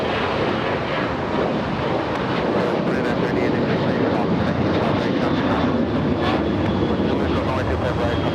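A jet roars steadily at LAX airport during takeoff, a broad continuous rumble with wind buffeting, fairly loud and sustained throughout.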